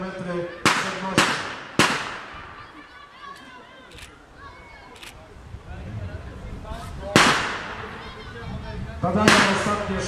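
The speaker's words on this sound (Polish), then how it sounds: "Padają ostatnie strzały celowane snajperskie" Gunshots at a military reenactment picnic at a castle: sharp, loud blank-fire reports, several in quick succession then scattered single shots, with crowd chatter and commentary underneath.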